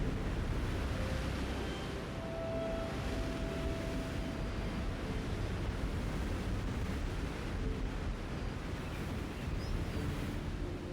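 Ocean waves crashing against rocky cliffs on the southern Portugal coast in the Algarve, a loud steady roar of surf and wind that goes on without a break, no voices.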